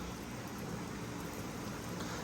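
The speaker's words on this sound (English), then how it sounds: "So it's still raining heavily" Heavy rain pours steadily on a golf course, a dense, constant hiss with no breaks, close and fairly loud, and no voices over it.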